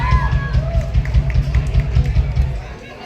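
Enthusiastic applause from a school audience welcoming a poetry club performer to the stage, dense rapid clapping with crowd noise throughout, fading near the end.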